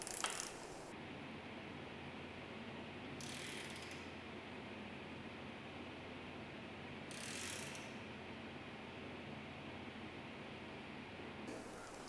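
Mini ratchet torque wrench from a 4, 5 and 6 Nm kit clicking as it tightens a bolt, a faint, steady mechanical rasp with a few brief louder pulses spread out over a low hiss, close and alone.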